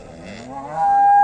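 A Red Sindhi cow at the Punganur cattle market gives a single loud, drawn-out moo that rises and swells close to the microphone, with no talking.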